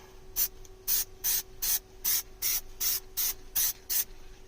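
Plasti Dip aerosol sprayed in repeated short bursts onto the steering wheel emblem of a 2014 Toyota Tundra, about ten evenly spaced hissing blasts with brief pauses between, close and fairly loud over a steady low hum.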